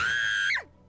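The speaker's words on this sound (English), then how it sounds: "Didn't you just scream?" A woman's scream in the Nancy Drew game The Deadly Device: one sustained high shriek that bends sharply downward and cuts off, loud and close, under a second long.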